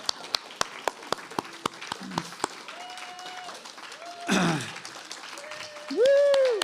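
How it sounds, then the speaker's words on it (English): Audience applauding at a faculty presentation, clapping building from a few scattered claps to a louder burst with cheering, with a whistle-like tone and voices mixed in. "More applause for that."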